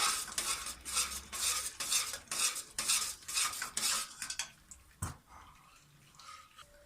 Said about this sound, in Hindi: तेज़ी से चलाना है आपने इसको। जितना आप जल्दी जल्दी चलाएंगे उतनी ही जल्दी ये ऑयल सेपरेट करेगा।